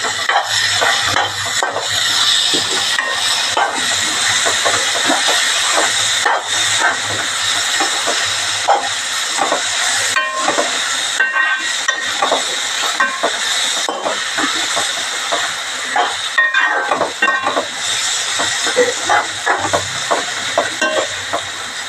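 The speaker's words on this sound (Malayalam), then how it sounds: "കുറച്ച് വേപ്പില, ഇതെല്ലാം ഇട്ട് ഒന്നുകൂടി മുരിച്ചെടുക്കാം." Curry leaves and garlic frying in oil in a pan for a fish curry, giving a steady, loud hiss and sizzle with crackling pops throughout.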